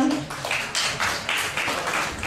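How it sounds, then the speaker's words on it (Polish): Applause at a Polish photography contest award ceremony, loud, close and dense, with clapping that swells in pulses roughly every quarter second and no talk over it. "brawa do Marcina"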